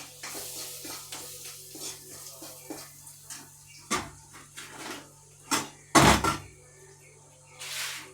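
Chili and turmeric being stirred and mixed in a frying pan, with soft scraping and sizzling, a few louder clanks of the spoon against the pan, and a low steady hum underneath.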